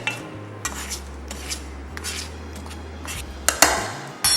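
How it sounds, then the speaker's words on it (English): Seasoned chicken being mixed with freshly milled black pepper in a bowl, heard as soft stirring and scraping with a few sharper clinks of utensil against the dish, under a low steady hum. "Give it a mix, make sure all the flavors are nice and incorporated"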